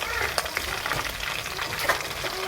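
Spicy fish masala fries in a pan with a steady, close crackling sizzle, broken by brief louder spits and pops, and no voices.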